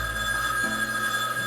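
A telephone rings in the Gabriel Knight: Sins of the Fathers adventure game, one loud close ring over a steady background tone.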